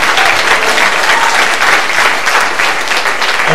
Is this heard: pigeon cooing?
no